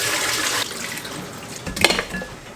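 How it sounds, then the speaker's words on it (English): Tap water runs steadily in a kitchen sink as sliced cucumber and onions are rinsed, with a brief rattle and splash near the end and no talking. "Drain and rinse the cucumber and onions under fresh water."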